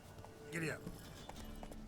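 Horse hooves clip-clop in The Witcher 3 as a rider urges the mount on, a steady light beat of hoofsteps under a man's brief spoken line and a game soundtrack.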